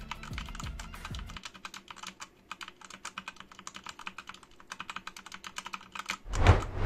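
Rapid clacky typing on a Gamepower Ogre mechanical keyboard with red switches and a wrist rest, a steady run of close, crisp keystrokes, with a low hum at the start and a louder bump at the end.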